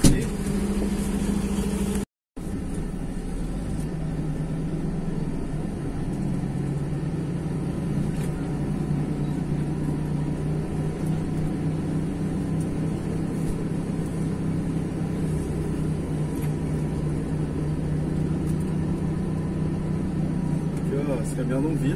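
Truck engine running steadily during a corn harvest, a low continuous drone throughout with a brief dropout near the start, while people talk over it.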